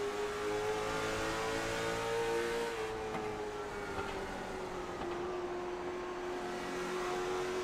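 Onboard a race car at North Wilkesboro Speedway, the engine drones steadily at high revs, its pitch rising and then easing off slightly under throttle. The note is continuous, close and loud, with no talk.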